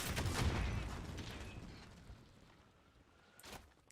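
Rocket launcher fired in Call of Duty, a heavy booming blast with a rumbling tail that gradually decays, then a sharper crack near the end, with no voices.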